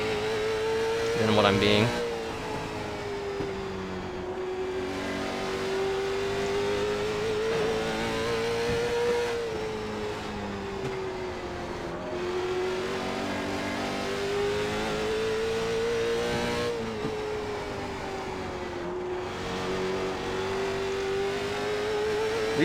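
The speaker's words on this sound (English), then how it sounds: "I'm just mashing the throttle down stupidly." A late model stock car engine at Hickory in iRacing, held at a steady loud drone that rises and falls with throttle through the laps, while someone talks over it.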